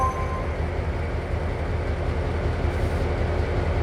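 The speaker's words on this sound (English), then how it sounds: "This isn't the train you'll be driving today" Steady rumble of a train in the Trainz Simulator World Tour video game, a continuous broadband rolling noise with low-end throb, constant and fairly loud without talk.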